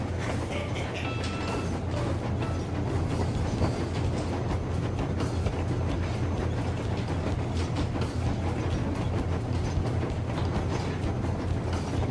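A train in the video game Metro Exodus rumbles along steadily with a dense, continuous mechanical roar and rattle of wheels and cars, loud and unbroken throughout.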